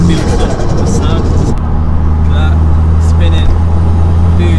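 Loud steady engine drone from a home-built, tuned Audi A3 1.8T turbo car building boost, shifting to a lower, smoother hum partway through, with faint whistling turbo noise and someone talking over it.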